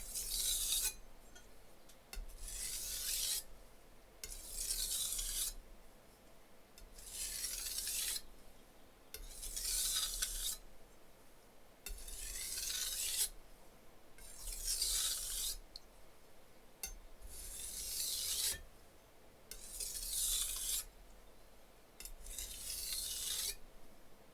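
A kitchen or pocket knife blade is drawn across a whetstone in repeated back-and-forth strokes, each a soft gritty rasp separated by short pauses. The strokes sound close, quiet and steady, with no talk.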